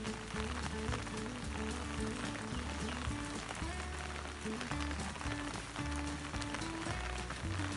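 Steady, dense rainfall hissing continuously at a resort in Khao Kho, Phetchabun, Thailand, with a low rumbling hum underneath throughout.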